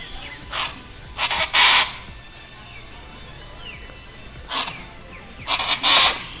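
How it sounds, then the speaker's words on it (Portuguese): Noisy aracuã (chachalaca) birds calling in the Pantanal at Miranda: loud harsh repeated squawking calls in bursts, a pair near the start and another cluster near the end, with quieter outdoor background between. "entre outros pássaros lindos e uns bem barulhentos, como no caso a aracuã."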